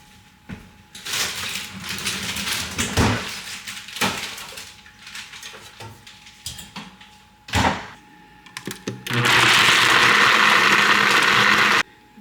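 A blender whirs loudly through a smoothie of frozen bananas, protein powder, fiber and collagen, a steady broadband roar lasting a few seconds after scattered kitchen clatter and handling knocks.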